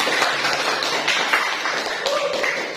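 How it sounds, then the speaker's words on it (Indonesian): A classroom of students claps in applause for a group discussion, a dense, close burst of hand claps lasting a few seconds, fairly loud and steady. "Sekali lagi kita beri tepuk tangan yang meriah untuk hasil diskusi"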